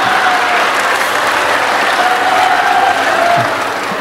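An audience at an interfaith gathering applauds loudly and steadily, a dense, sustained clapping that fills the whole stretch without pause.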